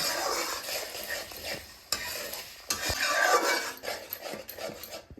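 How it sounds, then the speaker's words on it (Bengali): Yogurt frying with spice masala on a low flame, stirred with steady scraping and rubbing strokes over a soft sizzle, close and continuous. "দইটাও একটু ভালো করে কষে নেব।"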